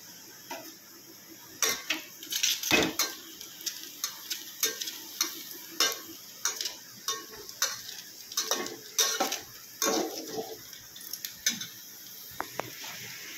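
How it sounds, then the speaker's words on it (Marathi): Food fries in oil in a pan, with a soft continuous sizzle beneath a regular run of sharp, close scraping and clinking strokes from stirring, and no talking. "तर बघा मित्रांनो आता तेल ओतलेलं आहे. त्याच्यात तळायचं काम चालू आहे."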